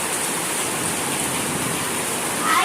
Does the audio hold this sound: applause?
no